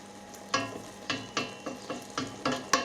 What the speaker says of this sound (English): I'll let it simmer for another 5 minutes and then we can fill the pie with it.